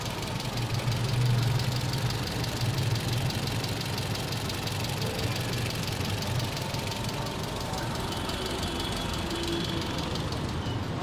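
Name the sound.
car engine idling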